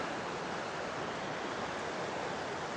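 A steady, loud rush of falling water at the base of Thunderbird Falls fills the air, constant and broadband with no pauses or other sounds.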